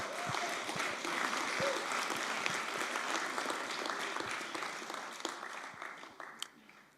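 At the A MAZE. award ceremony in Berlin in 2016, a hall audience applauds the media partners with a dense, sustained wash of clapping that slowly thins out toward the end, with a faint murmur of voices underneath.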